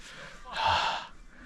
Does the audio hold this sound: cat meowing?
no